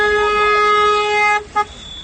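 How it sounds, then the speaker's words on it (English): A car horn blares in one long, loud, steady honk, then cuts off and gives a second short toot, close by and without talk. "Please don't honk your horn."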